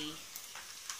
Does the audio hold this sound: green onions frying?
yes